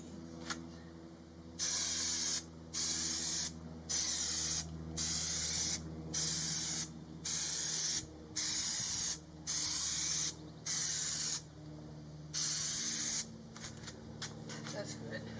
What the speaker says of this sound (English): So now I'm gonna spray glue the insulation to the backboard.